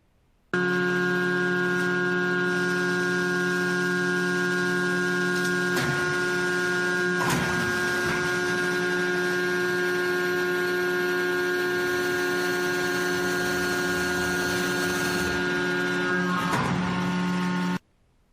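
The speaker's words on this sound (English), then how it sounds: "as you hear the noise of the press" A metal forging press gives a loud, steady grating drone with a strong humming tone that runs about seventeen seconds, broken by a few heavier knocks, then cuts off abruptly.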